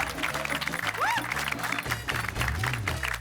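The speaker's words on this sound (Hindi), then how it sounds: "ताली बजा इनके लिए जी" Studio audience applause on a sitcom set in the Gokuldham society, steady clapping from a crowd heard beneath background music, with a brief whistling tone near the middle and no speech.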